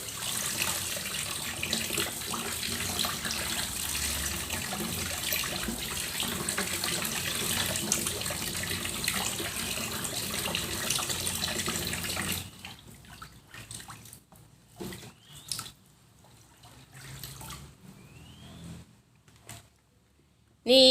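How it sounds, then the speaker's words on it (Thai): Tap water pours steadily into a basin of bamboo shoots for a long, even stretch, then stops. Splashing, handling sounds and a few soft knocks follow. "เปิดน้ำใส่เลยจ้า"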